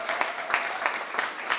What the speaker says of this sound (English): can we do a big round of applause?